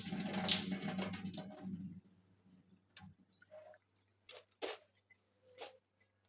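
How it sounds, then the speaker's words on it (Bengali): Water is poured into a pot of curry in a home kitchen, a steady running splash for about two seconds, followed by quieter scattered clinks and small splashes. "এই যে তরকারিটার মধ্যে কিন্তু পানি ঢেলে দিচ্ছি আমি"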